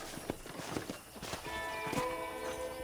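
Horse hooves clopping in an uneven series of taps, then a drawn-out whinny near the end, in Red Dead Redemption, heard close over a steady ambient background with no talking.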